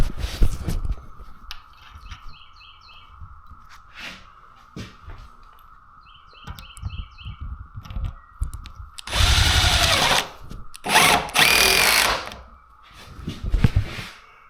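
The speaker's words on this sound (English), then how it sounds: "let me just get a couple of screws in here" A power drill drives screws into a reinforced plank on a holiday home build, with two loud whirring bursts close by after quieter knocks and handling noises, amid a steady background hum.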